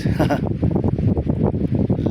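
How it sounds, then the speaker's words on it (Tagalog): Strong wind on a beach buffets the microphone in heavy, uneven gusts, a loud low rumbling roar throughout the short stretch. "Ang lakas ng hangin, guys."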